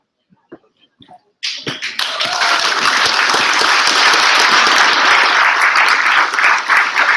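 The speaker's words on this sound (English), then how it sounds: "We should have a huge applause for all of the graduates." Graduation ceremony audience bursts into loud, sustained applause for the graduates after a few isolated claps, the dense clapping steady and close until the end.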